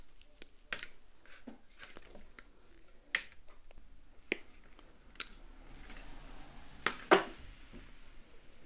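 Wire cutters snipping the excess end off an adapter cable give a handful of sharp, isolated clicks spaced irregularly over several seconds against a quiet, faintly hissy room.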